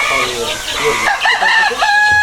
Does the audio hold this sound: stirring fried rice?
no